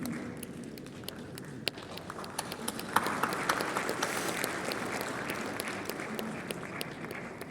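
A ceremony audience breaks into applause that swells to dense, steady clapping from a sizable crowd in a hall, lasting several seconds, with no speech over it.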